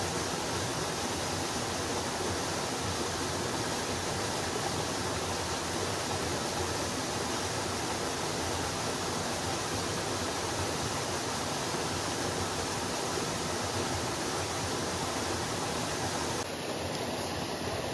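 A forest stream swollen after two days and nights of rain, rushing in a dense, constant roar close by, unbroken and loud throughout with no voices.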